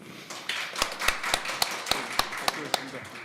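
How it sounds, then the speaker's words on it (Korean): Audience applause after a symposium session in Korea: moderate, steady clapping from a seated crowd, with a few sharper individual claps standing out, heard at middling distance in a hall. "다시 한번 큰 박수 부탁드리겠습니다"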